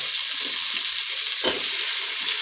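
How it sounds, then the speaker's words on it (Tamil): Tomatoes sizzle and fry in hot oil for chicken biryani, a steady loud crackle with a brief stir near the middle, no voices. "இப்போது தக்காளியை சேர்த்துக்கலாங்க"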